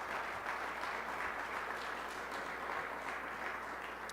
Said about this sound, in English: So give Governor Hochul another great round of applause